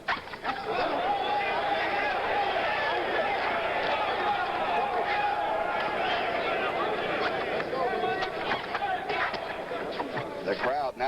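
Boxing crowd at a heavyweight bout between Earnie Shavers and Roy Williams, a dense continuous roar of cheering and chatter that swells throughout, with a commentator's voice running under it.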